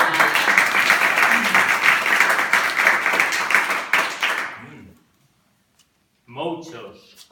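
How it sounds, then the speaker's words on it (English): Audience applause at a stage performance, loud and dense for about five seconds before fading into brief silence, followed by a voice starting to speak. "So please, a round of applause."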